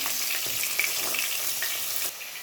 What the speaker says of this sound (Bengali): আর এর সাথে মাছ ভাজা বসিয়ে দিচ্ছি